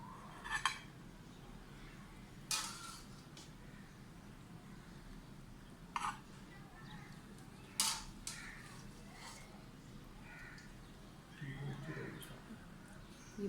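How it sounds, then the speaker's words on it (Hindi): Yakhni pulao is served from the pot onto a dish, with a handful of sharp metal clinks and scrapes spaced several seconds apart over a quiet kitchen background. "अब हम करते हैं इसे डिश आउट"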